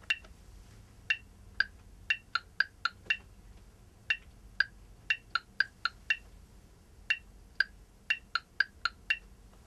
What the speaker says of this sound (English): listen to the phrase that comes factory preset